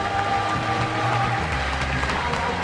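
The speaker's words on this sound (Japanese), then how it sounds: "どうぞお茶の間の皆さん、デストロイヤーの広い背中に拍手をお供えください。" Steady crowd applause from a wrestling audience at an All Japan pro wrestling match, a continuous dense clapping wash filling the hall with no voice over it.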